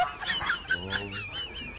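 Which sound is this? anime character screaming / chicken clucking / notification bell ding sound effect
chicken clucking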